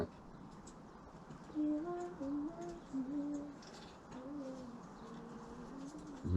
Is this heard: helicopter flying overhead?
no